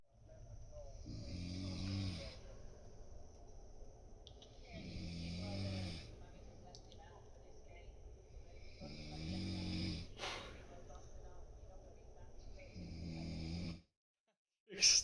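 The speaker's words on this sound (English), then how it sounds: "Stop snoring." A person snores in slow, regular cycles of deep rasping breaths, fairly close and moderately loud in a quiet room, with a brief pause and a sharp noise at the end.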